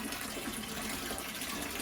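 Water gushes steadily into a bathtub filled with 28 pounds of ice, a continuous close rushing flow from well water with no voices over it.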